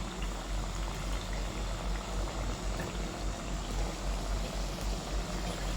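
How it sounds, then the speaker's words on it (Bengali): Thekua dough pieces frying in hot oil over a low-to-medium flame, a steady soft bubbling sizzle that continues evenly at low level with no talking. "এটা ভাজতে হবে লো টু মিডিয়াম ফ্লেমে"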